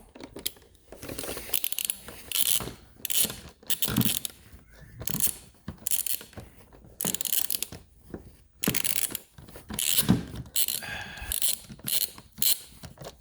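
Bursts of ratchet clicking as a fastener is loosened during an engine filter replacement on a Toyota Camry, repeated short runs of sharp mechanical clicks separated by brief pauses, close and clear.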